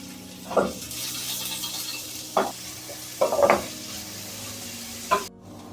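Onions fry in a pan with pike in a Ukrainian kitchen, giving a soft, steady sizzle interrupted by four brief scraping stirs of a utensil against the pan, close and with no talking.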